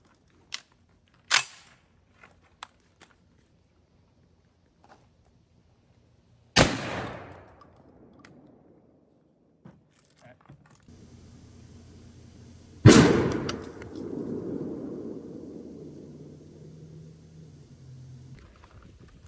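Two loud, sharp shotgun blasts from a Winchester SX4 loaded with Federal Shock 3-inch #2 shells, outdoors on a hot day, each with a decaying tail, separated by a few seconds and preceded by faint clicks of handling.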